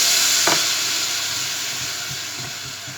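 Balsamic vinegar hits spelt grain in a hot pan, giving a loud, steady steaming hiss and sizzle with a brief scrape of stirring near the start and soft knocks as it is mixed.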